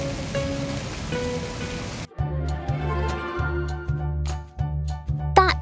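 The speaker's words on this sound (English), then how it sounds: "After sowing the seeds, a rain shower fell" Rain patters steadily on a surface, then shifts to a closer, more irregular dripping and splashing with a low rhythmic undertone.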